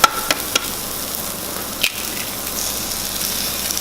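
Egg whites and vegetables fry in a greased pan, giving a soft, steady sizzle close by with a few faint clicks and stirring sounds near the start.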